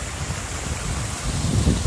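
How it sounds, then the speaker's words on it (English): A small waterfall in a Detroit city park gives a steady broadband wash of falling water, fairly faint and constant, with wind rumble against the microphone and no talking. "Yeah, a little waterfall there."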